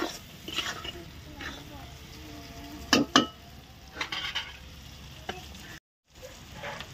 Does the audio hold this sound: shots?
no